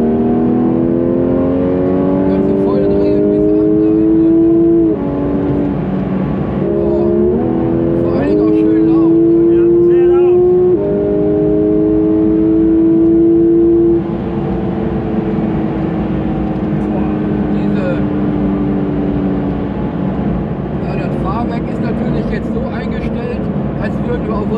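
Porsche GT3 RS engine revving hard, a loud close whining roar that climbs and drops through several rising sweeps before settling into a steady drone, with people talking over it.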